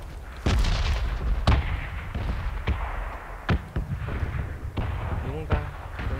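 Explosions and gunfire from PUBG Battlegrounds crack out in a rapid irregular series of sharp booms and shots, some close and loud, others further off, over a continuous rumbling background with voices talking between blasts.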